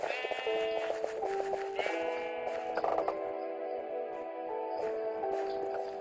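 Repeated sheep bleats from the Minecraft minigame Sheep Quest, wavering tonal calls layered over one another in a steady moderate-level stream, with occasional soft clicks and no talk.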